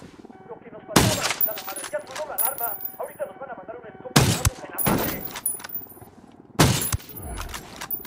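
Gunfire in Ghost Recon Wildlands comes as three sharp, loud bursts of shots spaced across the scene, with voices talking in the gaps between them.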